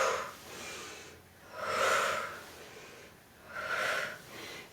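Rhythmic workout breathing during a gentle weights and mini-ball exercise, with two long, airy breaths swelling and fading in a slow, steady pattern, close and fairly soft, with no talk.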